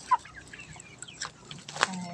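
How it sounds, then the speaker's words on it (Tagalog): Chickens cluck in short, scattered bursts at close range, with a few sharper calls standing out against a faint outdoor background. "Ang daming manok."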